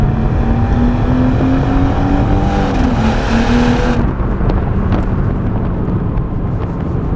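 A BMW M140i five-door heard from the rear while driving, its exhaust droning loud and steady with rising engine pitch through quick gear changes and a sudden shift to a lower tone near the end.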